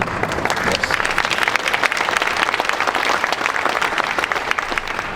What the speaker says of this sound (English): I didn't know that was going to get applause